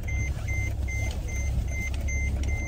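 Car seatbelt warning chime sounding as regular, evenly spaced short electronic beeps over the low hum of an idling engine inside the vehicle.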